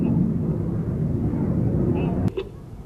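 Red Arrows jets roar during an aerobatic display at an air show, a broad, distant engine rumble under a commentator's voice that drops away near the end.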